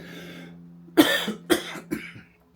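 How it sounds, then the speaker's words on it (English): A man coughs indoors in a workshop, three or four quick rough bursts in succession, close and fairly loud, tapering off at the end. "Gonna cough, so excuse me."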